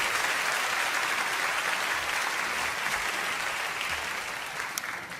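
Steady applause from a church congregation greeting a visiting pastor at a Sunday worship service, a dense even wash of clapping lasting several seconds and tapering slightly at the end.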